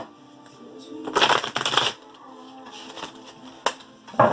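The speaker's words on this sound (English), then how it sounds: "But let's pull some more cards." Tarot cards are shuffled close to the mic, with two bursts of riffling ruffle, then softer slides and taps as cards are pulled, and a final quick flutter.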